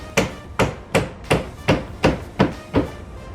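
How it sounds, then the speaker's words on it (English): A hammer strikes a bent car bracket that holds a windshield wiper hose, eight sharp metallic blows in an even, steady rhythm, close and loud with no talk. "I'm gonna go ahead and hammer that in anyway"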